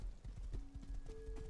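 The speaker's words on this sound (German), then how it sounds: "Ist das unser Pferd?" Horse hooves clip-clop in a video game, a quick, steady rhythm of close, distinct hoofbeats with faint tonal game sounds beneath and no speech.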